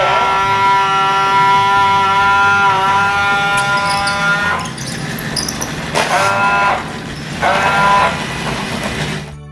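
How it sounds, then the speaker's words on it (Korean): The water pump motor of a Qihoo 360 robot vacuum whirs with a loud, tonal whine that holds steady at first and then comes and goes in short bursts. "윙 하는 물펌프 모터 돌아가는 소리가 들리시나요?"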